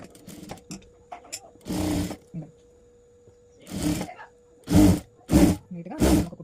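A sewing machine stitches a blouse in short bursts: one run, a longer one, then three quick loud runs in a row, close and clear. A faint background hum sits under it, with no voice on top.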